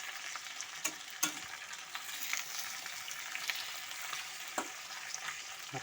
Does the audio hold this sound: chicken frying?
yes